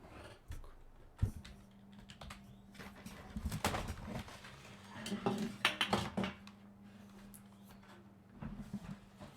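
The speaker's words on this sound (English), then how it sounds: "I'm going to be putting my keyboard right here." Typing on a computer keyboard indoors, with scattered clicks and short bursts of keystrokes that rise and fall over a steady low hum. No one speaks.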